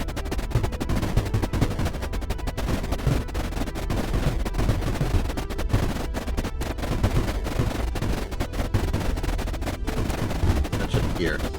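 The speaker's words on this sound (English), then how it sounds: "The guns can keep firing." Guns in the strategy game Creeper World IXE firing continuously, a dense crackling stream of rapid shots with faint talk underneath.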